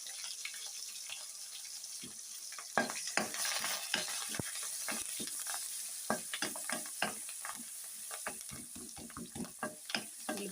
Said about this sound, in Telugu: ఉల్లిపాయ ముక్కలు అయితే గోల్డెన్ బ్రౌన్ కలర్ వచ్చే వరకు వేసుకోవాలి.